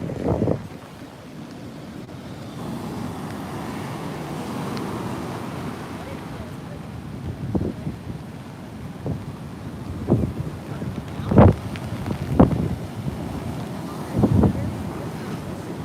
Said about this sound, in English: these waves are from the onshore flow from the hurricane coming up the coast.